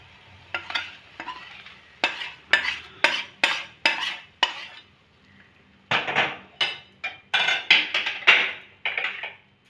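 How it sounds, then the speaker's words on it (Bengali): Onion tarka poured into dal and stirred with a spoon: repeated sharp scraping and clanking strokes against the pot in two bursts with a short pause, faint sizzling underneath, no voices. "এবার আমি ডালের মধ্যে এটাকে ঢেলে দেব।"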